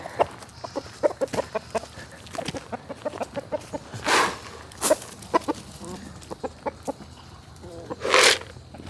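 Farm chickens cluck and cackle close by in quick bursts, with a few louder squawks breaking out over the steady clucking.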